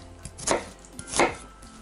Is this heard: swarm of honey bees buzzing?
no